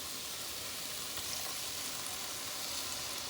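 Vegetable broth, 32 ounces, goes into a hot soup pot where drumstick leaves are frying, giving a steady, even hiss of sizzling and bubbling liquid that holds unchanged from start to finish with no voices.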